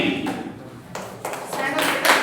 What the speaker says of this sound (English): Let's give clap for everyone